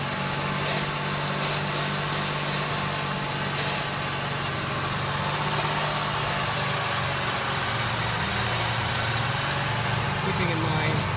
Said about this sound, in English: I'm not going to let the engine stall, just add a little bit at a time.